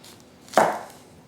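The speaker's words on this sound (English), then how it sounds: "This knife is going through the onions like a hot knife through butter." A single sharp knife chop through a medium onion on a cutting board, one crisp close stroke with a short fading tail in an otherwise quiet kitchen.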